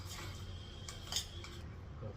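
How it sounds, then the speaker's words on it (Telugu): A spoon mixes mashed avocado in a bowl, with a few brief metallic clinks and soft scraping over quiet room noise. "సో ఇప్పుడు దీన్ని అంతా మిక్స్ చేసుకుందాం మంచిగా."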